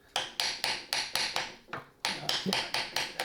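Rapid light taps from the flat face of a ball peen hammer press masking tape onto a motorcycle engine, about a dozen close metallic knocks in an even rhythm with one brief pause.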